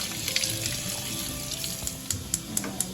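Garden vegetables rinsed under a steady running kitchen tap, a continuous water rush with a few small clicks and knocks near the end, no voices.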